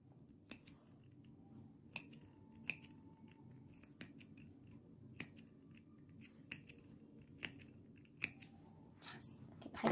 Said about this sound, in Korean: 저는 이 부분을 이렇게 가위밥을 군데군데 넣어주도록 하겠습니다